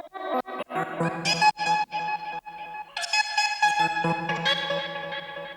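A pitched-up, heavily processed vocal chant with echo, gliding and wavering like a bowed violin, in short phrases with brief gaps.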